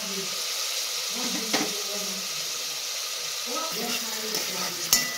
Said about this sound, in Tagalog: Haluin ulit natin hanggang sa maluto.